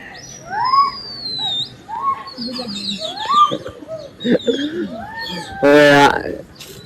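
Pigeons call and coo on a rooftop over chattering birds and a talking voice, with a loud burst of flapping or rustle near the end.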